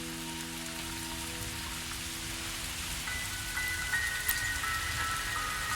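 Rain falling in the video game Wuthering Waves, a steady, even hiss of drops on surfaces that continues without a break, with soft sustained tones underneath and no voices.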